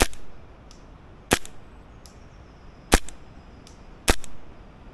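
A Novritsch SSQ22 airsoft rifle fires outdoors at range. Four sharp, separate cracks come a second or more apart, each followed by a fainter distant tick over quiet background hiss.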